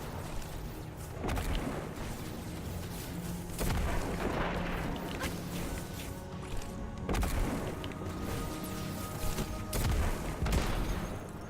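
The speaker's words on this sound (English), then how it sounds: "you can just keep lobbing grenades" Repeated grenade blasts in a shooter video game, several booming, crashing explosions spaced a few seconds apart over continuous gunfire and combat noise, fairly quiet overall.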